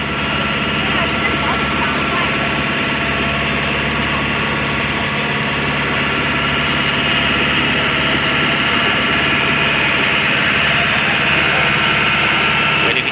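A river boat's engine runs steadily near Châu Đốc, a loud, continuous drone with a low rumble and a constant mechanical hum that holds unchanged from start to finish.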